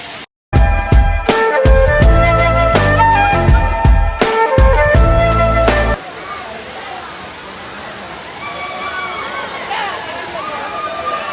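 A waterfall at Dharapalli near Kakinada rushes as a steady broadband roar after loud music cuts out, with faint voices and light chatter audible over the falling water.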